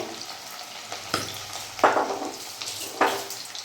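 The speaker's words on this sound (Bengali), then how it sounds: "আমি এটা হালকা শ্যালো ফ্রাই করব, ডিপ ফ্রাই করব না।" Chicken pieces shallow frying in butter and oil in a pan sizzle steadily and softly, with a few sharp scrapes and clicks of stirring or turning.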